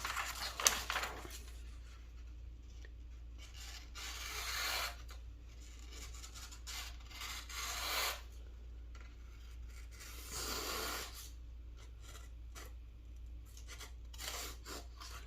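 A knife is honed at 20 degrees on a Work Sharp Precision Adjust sharpener, giving faint, dry rasping strokes that come in short bursts spread over a quiet background with no voices.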